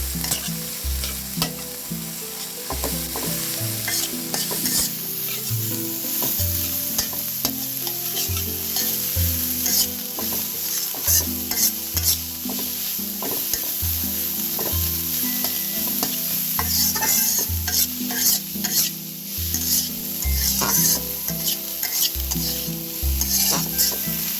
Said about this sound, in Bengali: পেঁয়াজ মরিচগুলো ভেজে নিচ্ছি